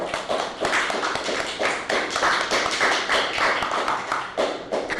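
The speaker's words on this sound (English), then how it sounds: "So let's just round of applause" Clapping from a small audience after a discussion at an anarchist bookfair in Los Angeles, close and fairly loud, with distinct individual hand claps in uneven pulses rather than a smooth wash.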